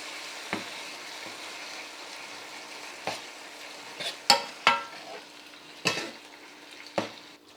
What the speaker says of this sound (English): I'm gonna turn my heat down a little bit and stir this in.